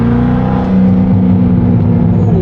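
C6 Corvette with its mufflers deleted pulling hard under acceleration, a loud, close, raspy exhaust drone whose pitch holds steady and climbs slightly, with no voices over it.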